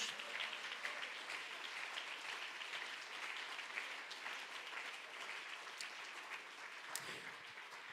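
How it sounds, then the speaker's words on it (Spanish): A church congregation claps steadily for about eight seconds, a dense, even wash of applause from a large crowd that neither builds nor fades. "Dele un aplauso a Jesús."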